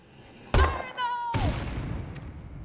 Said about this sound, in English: it makes noise when you launch the grenade, but then the explosion uh, is where the zombies actually get attracted to